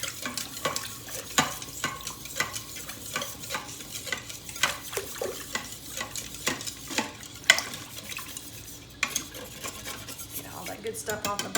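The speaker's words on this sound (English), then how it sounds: "scrape the bottom of that pan to get all of those good flour and herb drippings off of the bottom" A whisk scraping flour and herb drippings off the bottom of a pan for butternut squash soup, giving a rapid run of rhythmic metallic clicks and scrapes, close and fairly loud with faint sizzling underneath.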